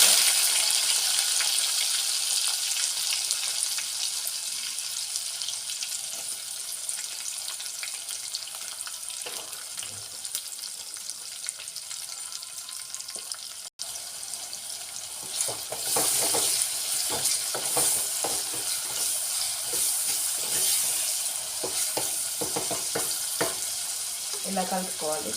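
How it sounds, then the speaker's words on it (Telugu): Chopped onions dropped into hot oil with cumin in a clay pot sizzle steadily, with a broad hiss that grows busier after the midpoint as stirring adds scraping clatters up close. "ఇప్పుడు చిన్న చిన్నగా కట్ చేసి పెట్టుకున్న ఉల్లిగడ్డలు వేసుకోవాలి."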